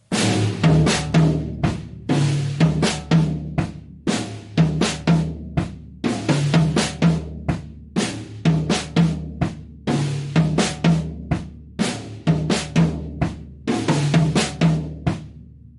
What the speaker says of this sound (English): So if I put all of those together, I have my groove from Ghana, and it sounds like this.